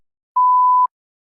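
A single steady electronic beep marking the start of a timed test response, one clean tone lasting about half a second, loud and alone in silence.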